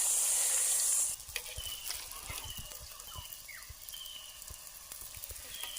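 Surmai fish frying in a pan outdoors, a steady close sizzle with scattered pops and crackles, low and continuous with no talk.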